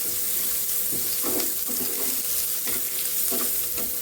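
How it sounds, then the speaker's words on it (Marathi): Curry leaves and onion fry with cumin and garlic in a pan, giving a loud continuous sizzle with intermittent stirring scrapes close by and no speech. "त्यामध्ये टाकू आपण कढीपत्ता, कांदा. असं चांगलं भाजून घ्यायचं लाल होईपर्यंत"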